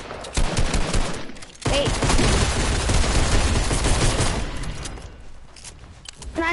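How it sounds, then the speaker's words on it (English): Sustained video game gunfire, a dense, loud stretch of rapid shots that runs for several seconds before tapering off, with a brief spoken word near the start. "You guys like kept on shooting at him."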